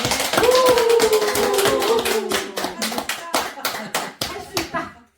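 A seated audience at a Buddhist dharma talk claps hands, starting as a dense burst and thinning into scattered separate claps that fade out, while a sung or chanted tone runs underneath early on.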